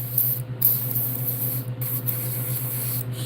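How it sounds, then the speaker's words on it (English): An airbrush sprays thick ink weakly through a fine nozzle while painting a fishing lure, a soft faint hiss over a steady low compressor hum, broken by a few brief pauses. "it's spraying really faint"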